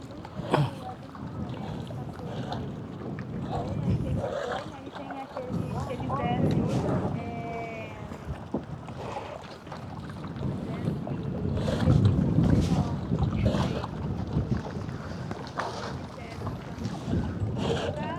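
Strong wind buffets a small boat on the Umngot River at Dawki, Meghalaya, as a continuous rushing roar that swells and eases over water noise, while people talk throughout.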